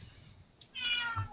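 A cat meows once, a short, fairly faint cry close by against a quiet background.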